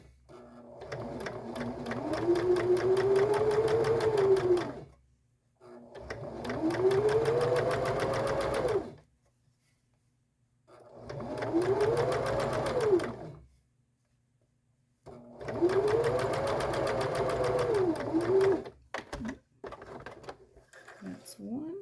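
A sewing machine basts all the way around a floral dress with a sleeve flounce, running in four long bursts of steady whirring stitching separated by brief pauses, close and clear with no talk.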